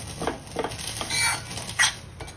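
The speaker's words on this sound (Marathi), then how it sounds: "आणि सारखं ढवळत ढवळत तुम्हाला हे भाजावं लागतं, नाहीतर लगेच जळायला वेळ नाही लागत" Besan (gram flour) roasting in ghee in a pan while a spoon stirs it, with soft scraping strokes and light clinks of utensil against metal over a faint, quiet sizzle.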